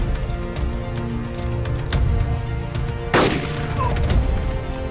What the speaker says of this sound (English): I don't know if he just shot at me.